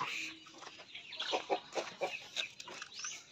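Native chickens in a backyard coop cluck in a series of short, close, moderately soft bursts with brief pauses between them.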